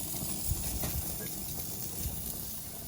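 Turkey burger patties frying in a pan give off a continuous soft steam hiss with faint crackles, low and steady throughout, without speech.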